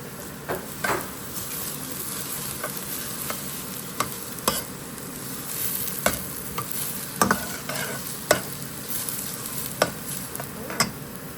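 Homemade ghee sizzles steadily in a hot pan, a continuous close frying hiss punctuated by light clinks and stirring taps, with no talking.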